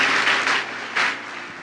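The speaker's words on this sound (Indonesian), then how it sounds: "Tepuk tangan yang paling meriah buat Tuhan." A church congregation applauds, a full burst of clapping that swells, eases, then surges again before settling into a steady patter.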